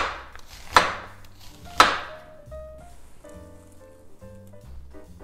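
Half of a large onion is sliced thinly with a kitchen knife on a board. Two crisp, close chops ring out about a second apart, followed by soft tonal background music.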